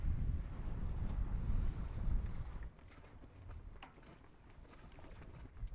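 Wind buffets the microphone in a low, rumbling roar that eases partway through, leaving a quieter breezy hiss over open water at an anchored sailboat.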